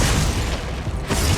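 A Glacius freezing spell cast in Hogwarts Legacy, a dense continuous magical burst with low booming rumble and crackling texture filling the whole moment, loud and close with no talk over it.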